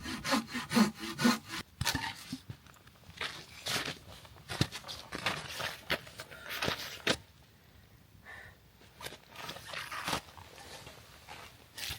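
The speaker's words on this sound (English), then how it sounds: "I still have to cut all of this firewood right here." Firewood sawn by hand at a winter bushcraft camp, with irregular back-and-forth rasping strokes up close, interrupted by pauses and a few scuffs and knocks.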